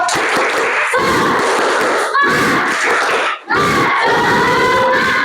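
Group of students in a classroom doing a spirited clapping chant: loud, close voices shout rhythmic chanted phrases together in repeated bursts, with one brief pause between them.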